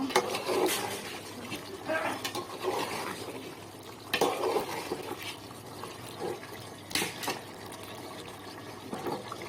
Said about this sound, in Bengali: গোশটা ভালো করে কষানো না হলে কাঁচা গন্ধটা আসবে, তাই ভালো করে কষিয়ে নিচ্ছি